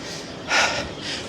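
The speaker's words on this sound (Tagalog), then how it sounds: "Hingal na naman. Hingal is real." A single heavy, breathy gasp followed by a softer exhale from someone climbing the steep stairs at Batu Caves in Malaysia, close and without speech.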